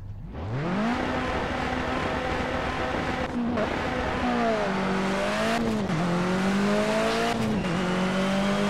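A car engine in the Project Cars racing game starts up and revs steadily, its loud droning tone climbing and dipping through several gear shifts, close and continuous.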